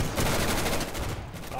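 Rapid automatic gunfire in the video game Insurgency, a loud, dense burst that carries on without a break for about a second and a half.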